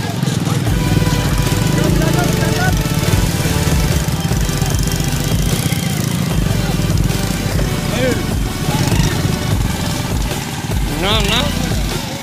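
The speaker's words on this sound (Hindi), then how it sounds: "अब हम लोग बाइक पार्किंग में लगा देते हैं यहाँ।" A motorbike is ridden into a parking area at a busy village fair, its engine chugging and knocking loudly and continuously amid crowd noise, with people talking throughout.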